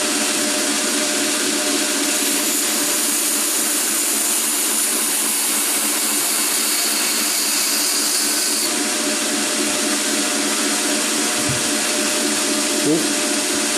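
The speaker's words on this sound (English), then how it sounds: "I'm just going to kind of rock it back into the wheel" A knife blade being rough hollow-ground against a spinning grinding wheel, rocked back into the wheel under firm pressure, giving a loud continuous harsh grinding whine with a steady motor drone beneath it, close and unbroken throughout.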